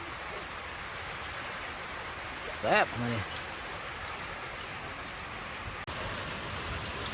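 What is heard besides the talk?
rain falling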